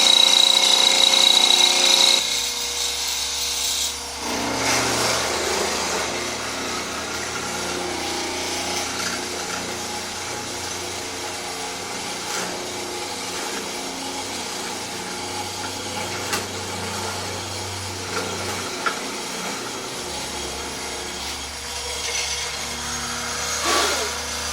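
A hollow chisel mortiser cuts square mortises into a wooden router table leg: a motor hum and a grinding, chewing drone run continuously at close range, with a few faint clicks and knocks between passes.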